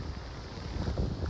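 Wind blows steadily outdoors on a cold day out fishing, a constant rushing buffet with low rumbling gusts against the microphone, loud and close throughout with no talk.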